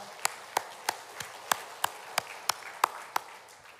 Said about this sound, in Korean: 우리 아브라함 회원들에게 힘찬 박수 부탁드리겠습니다